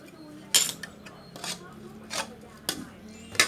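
Utensil clinking against a bowl while stirring a Thai cooked pork salad with mango and toasted rice powder, a few sharp separate clinks with soft scraping between, close by.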